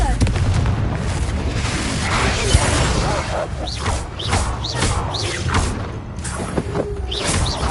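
Confringo spell blasts in Hogwarts Legacy: a dense, continuous barrage of booming explosions, crashes and whooshing magical bursts, loud and close throughout, with layered battle effects and rising swoosh sounds near the end.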